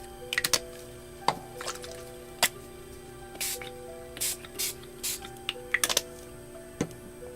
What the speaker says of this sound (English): I have some glimmer mist from Tattered Angels. So I'm going to spray this a couple of times